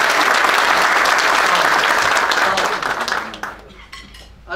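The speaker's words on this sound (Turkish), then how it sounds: "gerçekten ona ciddi, güzel, iyi bir alkış hak ediyor" Strong applause from a chamber of commerce audience honoring a board member, loud and dense at first, then tapering off into scattered claps and faint room noise with a brief voice near the end.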